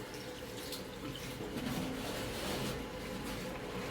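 Running water rinses shampoo off a scalp after a FUE sapphire hair transplant, a steady close splashing and pouring with no talk.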